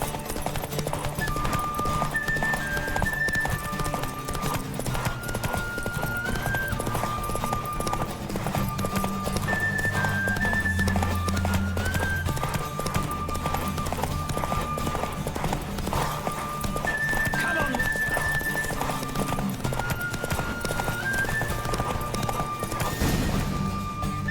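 Rhythmic clip-clop of galloping hooves in The Witcher 3: Wild Hunt runs throughout over a melodic game music track, loud and steady, with a brief swell near the end.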